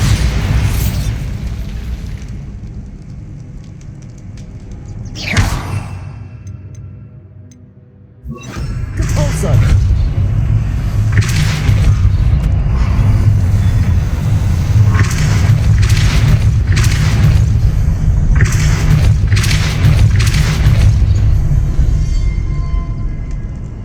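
Bombarda explosion spell in the Hogwarts Legacy video game, with a sharp blast near the start followed by rumbling debris and a string of crackling bursts over a heavy low background.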